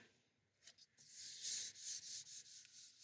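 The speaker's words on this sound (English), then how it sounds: "give it a good rub. And that's going to transfer the soft pastel to the plate." Paper pressed and rubbed by hand onto a sticky gel printing plate to transfer soft pastel, giving soft, close scuffing swishes in bursts with brief pauses, alone and fairly quiet.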